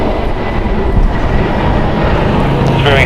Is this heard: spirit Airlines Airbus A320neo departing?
yes